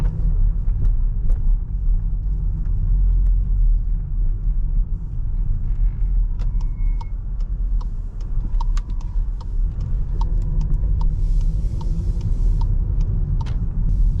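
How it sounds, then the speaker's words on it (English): A 2019 Volkswagen T-Roc 1.5 TSI with 150 horsepower pulls away from a stop, heard from inside the cabin as a steady low engine rumble with light road noise and a few faint clicks. "Put the handbrake off, put it in drive,"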